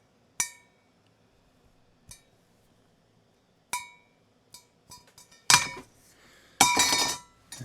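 A metal object hung from a fingernail and struck, giving several sharp clinking hits that ring out with bright metallic resonance, sparse at first and then denser and louder toward the end, close up with no voices.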